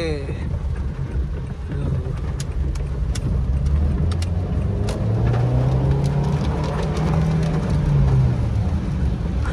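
A 2014 Honda Brio Satya S with a manual gearbox driving along, its steady engine drone and road rumble continuous and close throughout, with a rising engine note partway through; no talking is heard.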